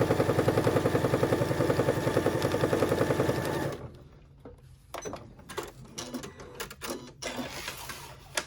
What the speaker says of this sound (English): I'm just going to go back to the sewing machine here, and I'm going to stitch